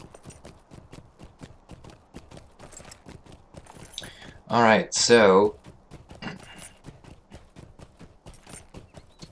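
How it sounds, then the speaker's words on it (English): In Lord of the Rings Online, a riding horse's hooves clip-clop in a steady, even rhythm throughout, close and moderately loud, with a short spoken phrase cutting in near the middle. "I'll take the stable horse to Hobbiton."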